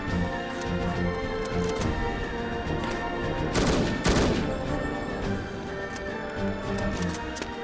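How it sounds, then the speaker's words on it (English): An AK rifle fires in the video game No One Lives Forever, with bursts of gunfire over continuous game noise and a loud, dense volley in the middle. "the AK hits real hard"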